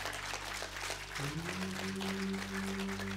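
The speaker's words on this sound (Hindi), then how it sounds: "तालियां, तालियां उनके लिए, तालियां" An outdoor audience at an International Yoga Day session in a park gives soft, distant applause, a continuous patter of clapping under sustained low musical tones and hum.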